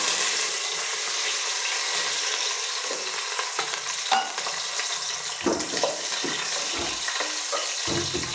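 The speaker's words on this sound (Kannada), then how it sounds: "ಈಗ ಈರುಳ್ಳಿ ಮತ್ತು ಕರ್ಬೇವಿನ ಸೊಪ್ಪು ಒಗ್ಗರಣೆಗೆ ಹಾಕ್ತಾಯಿದ್ದೀನಿ" Onion and curry leaves sizzle in about three spoons of hot oil for a tempering, a close, steady crackle punctuated by scraping stirs of a spoon against the pan, with no talk.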